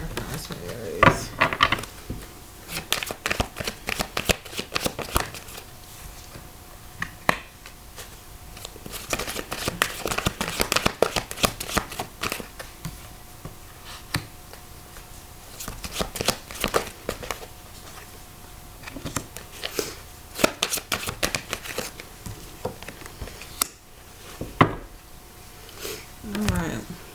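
Tarot cards riffle and slap in repeated bursts of papery shuffling close up, with soft tapping and handling noises between them, under a quiet voice during a reading.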